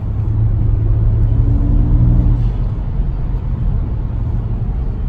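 A BMW fitted with a Burger Motorsports pedal tuner accelerates with a steady, loud engine rumble and a brief rising rev partway through, then settles into a constant cruising drone.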